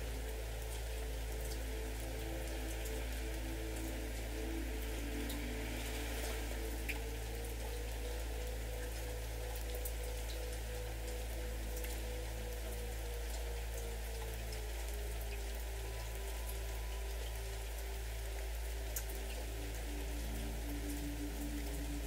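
Gentle rain falls in a soft, continuous patter, quiet and even throughout, with a faint low tone humming underneath.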